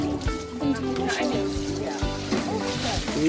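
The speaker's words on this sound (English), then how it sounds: "Amy's washing her hands as well, yeah?" Tap water runs and trickles as a young girl washes her hands at a city farm, splashing softly close by while voices talk over it.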